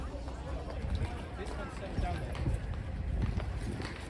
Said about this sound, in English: Horse is backing away,